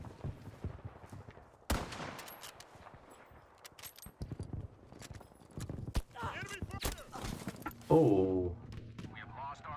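Rapid gunfire from a quick-firing weapon in the shooter game Crysis 3, sharp repeated bursts breaking out at intervals amid busy game sounds while players talk over it.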